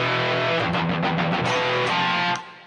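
Distorted electric guitar power chords, an E5 moving up a semitone to an F5, thick and sustained with a few rhythmic chugs, loud and up close before ringing out.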